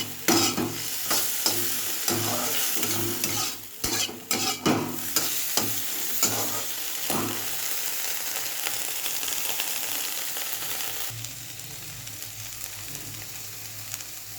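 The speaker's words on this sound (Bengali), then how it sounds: "জিরে দিয়ে সামান্য একটু লঙ্কার গুঁড়ো দিয়েছি" Cumin seeds and a little chili powder fry in hot oil while being stirred, a steady broadband sizzle with scraping spoon strokes, loud and close, easing slightly toward the end with no talking.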